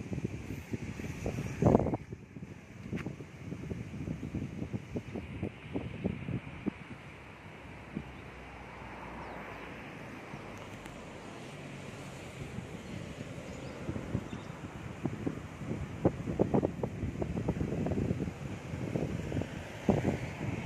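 Wind gusting against a homemade wind turbine built from a starter dynamo, heard outdoors as rough, buffeting microphone rumble that swells and fades, with scattered crackling and no speech.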